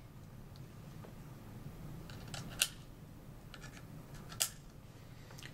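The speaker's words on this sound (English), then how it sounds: "insert the plugs of the transducer into either of the plugs in the gauge" Transducer plugs are pushed into the sockets of a UTG 1500 ultrasonic thickness gauge, making two sharp, small clicks a couple of seconds apart over a quiet room hiss.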